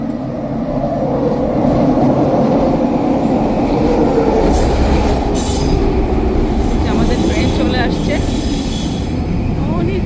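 A SkyTrain at King George station in Burnaby, Vancouver, roars loudly and continuously with rising wheel squeal and rumble close by, while a voice talks underneath.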